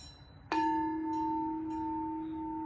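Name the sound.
homemade gong wind chime of black scrap pipe being struck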